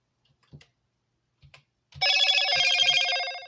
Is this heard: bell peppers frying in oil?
no